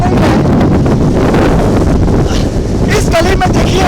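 Heavy rain and violent wind of Cyclone Biporjoy pound a street in Dwarka during landfall, a dense, constant roar battering the microphone, with voices surfacing faintly near the end.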